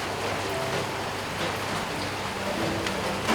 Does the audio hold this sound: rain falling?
yes